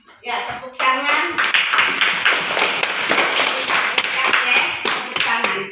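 A classroom group of children claps together in a dense, continuous burst of sharp hand claps, close and lively, with some voices mixed in.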